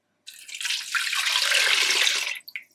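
Water poured steadily from a container onto half a kilo of boneless chicken in a bowl, a loud continuous splashing rush lasting about two seconds before stopping abruptly with a small final splash.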